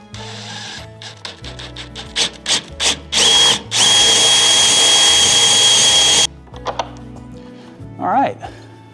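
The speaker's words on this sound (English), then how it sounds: "this is a 1/2 inch drill bit" A drill with a half-inch bit buzzes in short bursts while working on wooden double shed doors, then runs in one long, loud grinding stretch before stopping, with someone talking in between.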